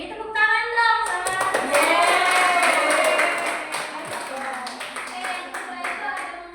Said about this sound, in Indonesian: Beri tepuk tangan dong sama.